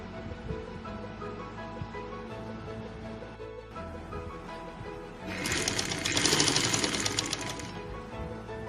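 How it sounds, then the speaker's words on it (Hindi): A sewing machine stitches the shoulder seam of a girl's box-pleated frock, a close, steady rapid whirr that pauses briefly, then picks up louder and faster before easing off. "अब हम शोल्डर की सिलाई लगाते हैं।"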